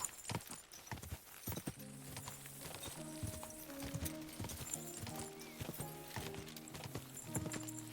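Rhythmic clip-clop of galloping hooves with a horse whinny in the video game Kingdom Come: Deliverance II, set against a steady game background of music and effects.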